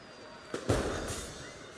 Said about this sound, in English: toys that shoot fireworks.